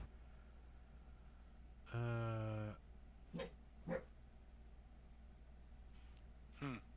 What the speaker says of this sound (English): I hear dog barking in the abyss.